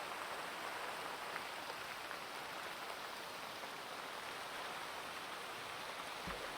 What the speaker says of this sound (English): We have so much rain today, I kind of love it.